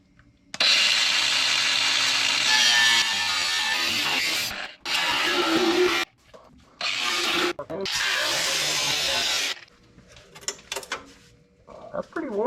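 A power cutting tool grinds through a rusted cab mount bolt on a 1972 Ford F-100, loud and close, in several long high-pitched bursts separated by short pauses, followed by quieter scraping handling noises.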